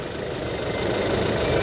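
A Toyota Innova Reborn diesel engine idles steadily up close, a continuous loud low rumble with a mid-range clatter and no talking.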